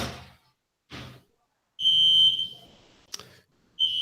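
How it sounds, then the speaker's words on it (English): An indoor building alarm sounds in short bursts, a shrill electronic buzz repeating with gaps, interrupted by a sharp click, close and fairly loud. "and then the building alarm rings"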